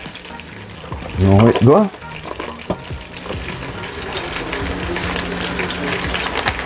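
Bay leaves hiss and crackle as they hit hot oil in a pot of Indian curry, a steady close sizzle that keeps going while someone speaks briefly over the start.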